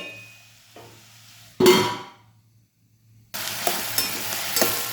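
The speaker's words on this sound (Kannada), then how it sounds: "ಯಾವಾಗಲೂ ತರಕಾರಿ ಬೇಯುವಾಗ ಅವಾಗವಾಗ ತೆಗೆದು ಒಂದು ಬಾರಿ ಅದಕ್ಕೆ ಮಿಕ್ಸ್ ಕೊಟ್ಟು ಬೇಯಿಸ್ಕೋಬೇಕು" Onion pallya being stirred in a pan as it fries, a single loud scrape then quiet, followed by steady close sizzling with occasional stirring knocks.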